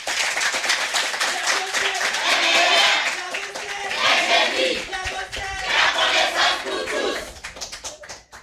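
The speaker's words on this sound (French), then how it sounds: "Merci d'accueillir sous une pluie d'applaudissements le lycée d'Agoué Centre." An audience at a school quiz competition applauds the Lycée Agoué Centre team, lively clapping mixed with cheers and shouts from a crowd, loud and rising and falling in waves.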